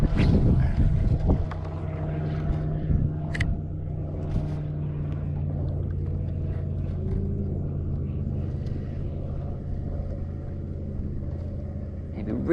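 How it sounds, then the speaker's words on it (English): Gusty wind buffeting the microphone on an open shoreline while fishing at Honeymoon Island, a steady low rumble with a louder burst at the start, with a voice speaking intermittently underneath. "It'd be really cool if this wind died down."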